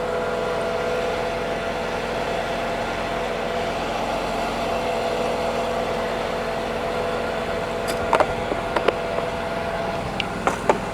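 A HotJet 2 trailer-mounted jetter with a 37 HP fuel-injected engine runs at 2,000 RPM, producing a steady, continuous mid-pitched engine drone with faint metallic clicks near the end.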